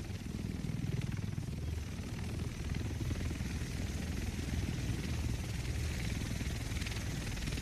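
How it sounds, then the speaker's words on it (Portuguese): Helicopter arriving in the Tom Clancy's The Division video game, a steady loud rotor chop and engine drone that holds throughout with a dense low-frequency thumping rhythm. "O resto de nós deve estar nesse helicóptero."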